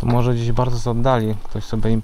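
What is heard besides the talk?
No everyday noises stand out.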